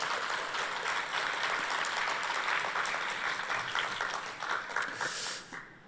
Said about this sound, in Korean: 우리 찬양대에서 박수 한 번 더 하도록 하겠습니다